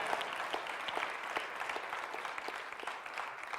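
An audience at a Hindi Bible study session on the Book of Hebrews claps together in a dense, even burst of applause that holds steady for a few seconds.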